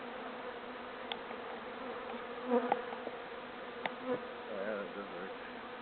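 Honeybees buzz around an open hive during a spring inspection, a soft continuous drone with occasional louder passes as individual bees fly close, while a person speaks quietly nearby.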